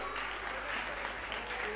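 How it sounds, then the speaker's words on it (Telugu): Audience applause fills a hall during a harvest festival lucky draw, a steady, dense wash of many hands clapping at close range without pause. "గట్టిగా క్లాప్స్ అందరూ కూడా."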